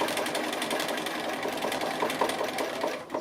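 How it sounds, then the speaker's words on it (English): Sewing machine doing free-motion quilting around an appliqué shape on a Hawaiian-style quilt, a steady rapid stitching rhythm running close and continuous throughout. "I'm making use of the stitching and going all the way around, forming a little bit of internal quilting at the same time"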